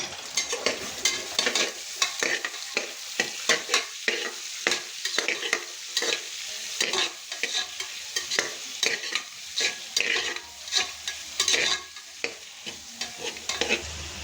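Onions sautéed and stirred in a pan for a country-chicken kurma, with steady sizzling frying and repeated scraping strokes of a spoon against the pan, close and continuous throughout.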